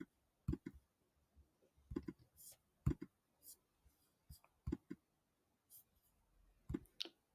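Mouse clicks while editing in Canva: sharp, faint, close taps arriving one at a time or in quick pairs, separated by quiet gaps.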